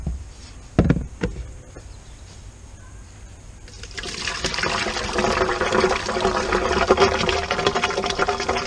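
Pulp slurry is loaded into a homemade biogas digester: a few thumps and a quiet stretch, then a loud, sustained gushing, sloshing pour that keeps rushing to the end.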